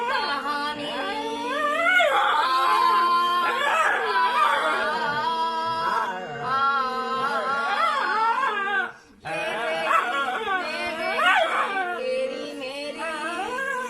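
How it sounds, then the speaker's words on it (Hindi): A dog howls along with its owner's singing, long wavering pitched wails rising and falling close by, mixed with the person's melodic voice, pausing briefly before resuming. "ये कुत्ता जो आप देख पा रहे हैं, वो अपने मालिक के साथ गाने में सुर मिला रहा है और गा रहा है"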